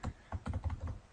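Rapid close-up keystrokes on a computer keyboard while code is typed, about a dozen quick clicks in an uneven rhythm, quiet and alone.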